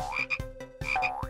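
Cartoon frog croaks, two quick bouncy croak calls in a row, loud and near, with a springy rising and falling tone and nothing else behind them.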